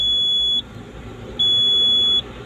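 A Komatsu PC200-8 excavator that will not start, with a damaged fuel relief valve in its common rail, sounds its warning alarm: two loud, steady high-pitched electronic tones, the second after a short gap, over low background hum.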